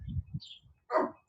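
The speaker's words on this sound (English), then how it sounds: "as soon as I come on, he starts barking." A dog indoors during a back and biceps workout gives a couple of short, fairly close barks: a low burst at the start, a pause, then a sharper, louder bark near the end.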